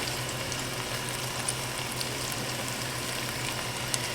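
Dill pickle chicken bites frying in a pan of oil, a steady, even hiss of sizzling with faint crackles and pops and no talking.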